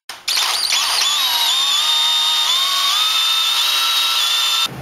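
A power drill spins up and grinds steadily for several seconds while drilling through a metal line during an LS1 F-Body master cylinder install, a loud close whine with slowly shifting pitch, then stops.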